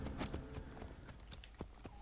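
Horse hooves clip-clop in the Assassin's Creed Brotherhood video game, a steady run of fairly quick, light hoofbeats at moderate distance with no talking.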